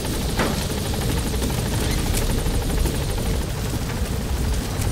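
A helicopter in the Metal Gear Solid V video game makes a loud, continuous rotor thrum and engine whine that holds steady throughout, with no speech.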